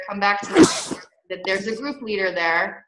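A single short sneeze bursts out near the start of the clip during a group prep call, close and sharp, with a person talking before and after it.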